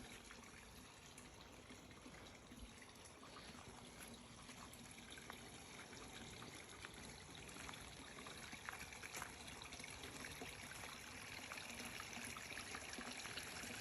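A small garden waterfall trickles and splashes steadily, a soft continuous patter that stays even and fairly quiet throughout.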